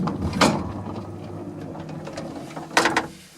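Machinery hums and whirs in the motor room of a 1930s Marryat Scott lift, a steady mechanical drone with two louder clattering ratchet-like bursts.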